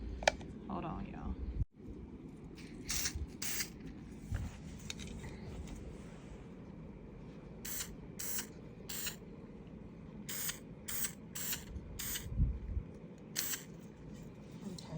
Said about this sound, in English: I'm gonna spray some paint on the top